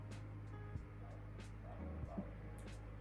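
Dogs bark and yip briefly at low level over a steady background hum, a few short sharp calls scattered through the moment.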